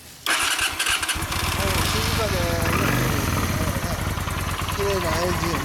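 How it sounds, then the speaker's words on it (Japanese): A Honda Shadow 400 Classic motorcycle fitted with a Kentek exhaust starts up with a brief burst and then settles into a loud, deep, lumpy idle, with a few throttle blips. It sits close and dominates the sound. "ちょっとエンジン音聞かせてもらえるかな"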